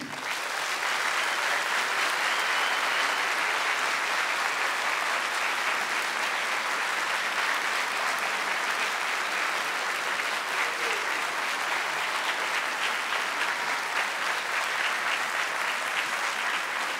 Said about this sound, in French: Est-ce que vous pouvez applaudir pendant 2 minutes sans vous arrêter?